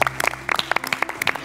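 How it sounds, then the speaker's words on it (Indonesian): Studio audience applauding on a televised campus quiz show stage, a short burst of scattered, fairly faint clapping with uneven hand claps rather than a dense roar. "Tepuk tangan dong Rifki."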